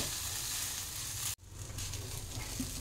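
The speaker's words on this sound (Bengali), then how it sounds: "চালটা দিয়ে সবগুলো একসাথে একটু কষে নেব।" Rice sautéing in a hot pan for vetki khichuri, a steady close sizzle with scraping stirs that cuts out briefly for a moment before resuming.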